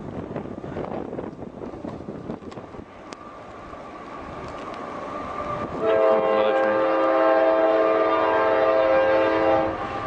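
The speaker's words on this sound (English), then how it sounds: "They have trains going by here 24/7. This is a train station, it's pretty busy." A train passing through a busy rail station, low rumbling and rattling wagons building up before a loud, sustained multi-tone horn blast that holds for several seconds near the listener.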